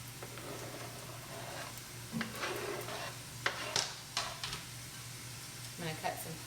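Onions hit a pan of oil over medium heat, giving a soft, steady sizzle broken by a few louder scrapes and stirring bumps, with no talk.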